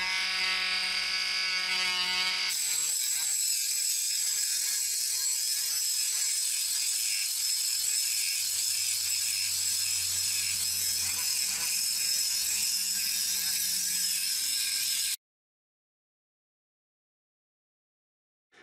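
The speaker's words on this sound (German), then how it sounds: "Ich habe jetzt einfach mal 6 Wolfram-Elektroden in verschiedenen Winkeln angeschliffen." Cordless Parkside grinder fitted with a 3D-printed attachment, sharpening tungsten welding electrodes: a steady high-pitched motor whine with a grinding hiss, running continuously for about fifteen seconds and then cutting off into silence.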